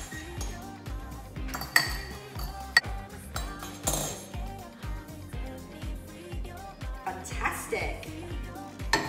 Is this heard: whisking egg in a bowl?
yes